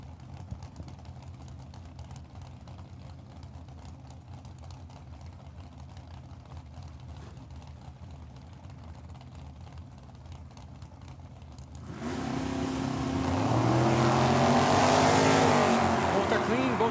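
At a Tucson dragstrip, a Nova and a 1969 Ford Mustang idle and rumble under an announcer's voice before launching into a sudden, loud, rising engine roar that fills the last few seconds.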